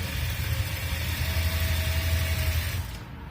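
Sewing machine stitching straight pants, a steady low mechanical whir running continuously and evenly for about three seconds before cutting off near the end.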